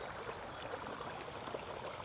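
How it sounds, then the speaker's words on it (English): River water flowing outdoors, a faint, steady broadband rush and babble continuing evenly throughout with no voices. "We can hear the flowing of the river."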